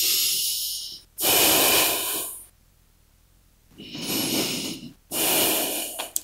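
Deep breaths in and out during a yoga flow moving from high cobra into downward dog: two cycles of loud, close, hissing inhales and exhales separated by short quiet pauses.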